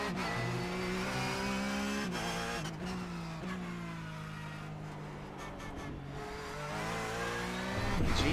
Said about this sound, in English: There I go, blipping the throttle again.